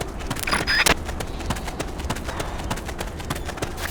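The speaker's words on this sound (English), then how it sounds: "I just heard footsteps!" Footsteps in the video game Metal Gear Solid Peace Walker tap out in a quick, irregular run of sharp clicks, fairly close, with a brief brighter effect near the start.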